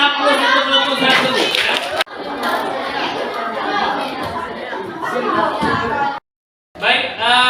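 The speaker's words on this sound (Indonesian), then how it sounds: "Mari kita berikan aplaus untuk kelompok satu" A classroom of students applauds and chatters for group one, steady crowd noise with clapping and children's voices running for several seconds before a brief silence, then resuming.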